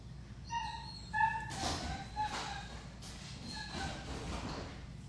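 Puppies let out a quick run of high, thin whimpers and yips, followed by softer rustling and a few fainter whines, close by and without speech.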